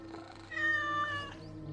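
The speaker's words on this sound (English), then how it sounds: "Quick pet of the cat as we're passing through." A single cat's drawn-out meow as it is petted in the video game Assassin's Creed Mirage, clear and close over a quiet background hum, with no talk.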